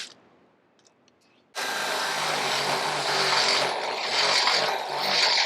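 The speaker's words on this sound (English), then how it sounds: "And so we just drill the 2 holes." A power drill bores holes into a Toyota Tacoma truck frame for rock slider mounting, starting abruptly after a quiet moment, then a loud, sustained whine grinding on steadily.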